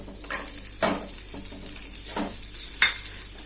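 Garlic frying in a pan for banana flower chutney, a soft steady sizzle broken by a few sharp stirring scrapes, close and moderately quiet.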